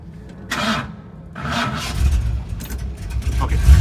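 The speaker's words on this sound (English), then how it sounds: "To demonstrate how to start the vehicle, there is a little trick to it" A 1964 Ford Thunderbird engine cranks in two short bursts, then catches and builds into a rising, rumbling idle that grows louder toward the end.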